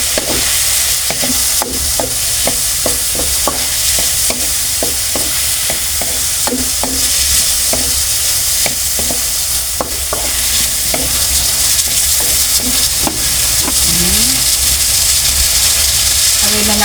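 Water spinach (kangkong) stems stir-fried in a hot pan give a steady loud sizzle, with frequent quick scraping clicks of stirring all the way through.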